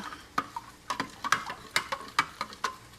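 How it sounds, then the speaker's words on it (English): Vegetable broth being stirred in a pan, with a dozen sharp spoon scrapes and clinks at an uneven, steady pace, close and fairly quiet, with no talking. "So just stirring that up."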